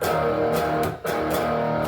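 Electric guitar strumming the rhythm pattern of a song, a steady run of accented chord strokes with a slightly distorted tone and one brief dip in the middle.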